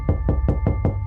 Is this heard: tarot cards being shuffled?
no